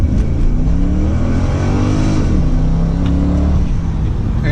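A 2006 Pontiac GTO with the 6.0 V8 pulls hard at full throttle from a rolling start, its loud, close engine note climbing steadily and shifting once partway through.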